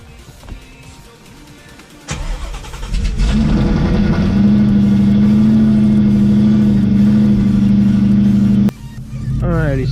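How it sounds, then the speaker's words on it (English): A car engine cranks and catches, then settles into a loud steady idle close by, with a brief dip and hum of electronics near the end. "So let's go ahead and start the car."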